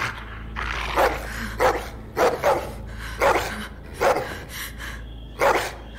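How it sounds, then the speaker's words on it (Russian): A dog barks and growls in The Walking Dead: The Final Season video game, a series of sharp, loud barks repeating irregularly at close range over a low growl and steady background hum. "Песик, угомонись, песик."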